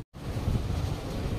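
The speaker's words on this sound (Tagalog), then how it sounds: "Ang lakas ng hangin dito, saka ang lakas ng tunog" Strong wind gusts batter the microphone at a hanging bridge viewdeck in Pililia, a loud, steady low roar that starts after a brief silent gap and continues unbroken.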